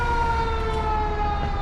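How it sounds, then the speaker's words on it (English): A fire truck siren wails steadily through the streets of Lancaster city near the courthouse, loud and sustained with a wavering tone over traffic rumble, no voices. "Yeah, fire truck."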